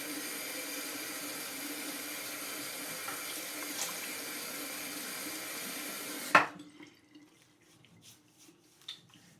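Water runs steadily from a bathroom tap during a wet shave, a constant close hiss that stops abruptly partway through, leaving a few faint drips and small clinks.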